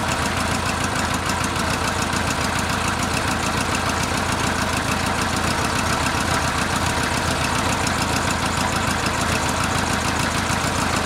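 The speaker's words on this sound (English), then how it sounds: "That's how you start the bike." A motorcycle engine running after being started, a loud, even, rumbling idle with a rapid knocking pulse that stays constant throughout, with no one talking.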